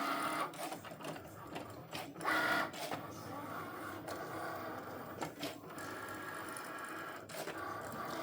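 A Cricut cutting machine runs a fine point blade through a design, giving a steady mechanical whir with brief clicks and carriage shifts throughout, fairly quiet and with no talking.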